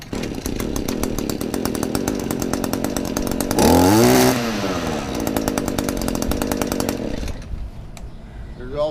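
A small pull-start engine on a piece of lawn equipment runs with a rapid buzzing putter, revving up briefly in the middle before cutting out near the end, loud and close.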